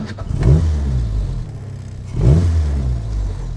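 A 1960 Triumph TR3A's engine is started with a push button, then roars up loud and close in two distinct revving bursts about two seconds apart, holding a throaty idle between them.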